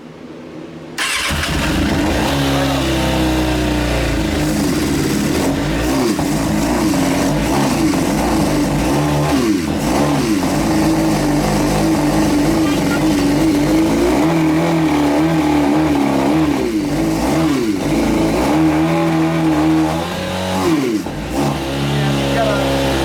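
Motorcycle engine with unsynced carburetors idling unevenly, loud, close and continuous with a rough, wavering rhythm and occasional blips, while a voice talks over it.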